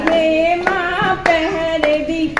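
A group claps hands in a steady beat, about one clap every half second, during a devotional mata bhajan, the claps clearly heard beneath loud sung vocals.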